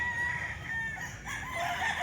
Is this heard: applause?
no